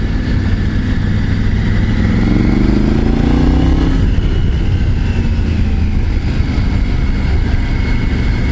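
A 2024 Triumph Tiger 900 GT Pro motorcycle engine revs up, rising in pitch for a few seconds before settling into a steady, loud drone with wind rush, heard up close while riding and with no talk.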